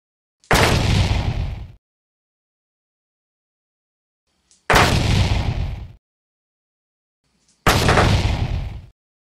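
Three separate loud booming volleys of artillery and massed gunfire from a Napoleonic battle at Ligny, each a dense roar lasting over a second, separated by silence.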